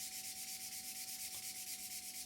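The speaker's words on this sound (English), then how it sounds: "really the sanding stick is doing all the work" A sanding stick rubs along the seam line of a plastic Academy F-16I Sufa model kit in quick, even back-and-forth strokes. The scratching is close but quiet, with no talk.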